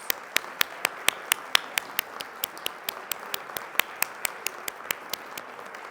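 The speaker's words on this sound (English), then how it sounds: "so let's give Tig a round of applause" A small audience at an annual awards meeting gives sparse, distinct handclaps, each one sharp and separate, in a loose irregular rhythm that keeps going for several seconds.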